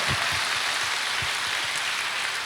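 An audience at a church lecture applauds: dense, steady clapping fills the whole short stretch, close and continuous.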